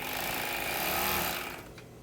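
A Juki MO-6700 overlock sewing machine runs at high speed, giving a dense, loud mechanical whir for a couple of seconds before it winds down and stops.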